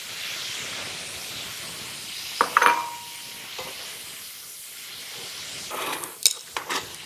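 Chili meat frying in a pan as spices go in, a soft steady sizzle and hiss with a few clinks and scrapes of a utensil against the pan, close and fairly quiet.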